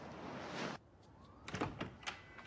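A door being opened indoors: a soft rushing noise cuts off, then a few quiet clunks and thumps of the latch and door follow in close succession.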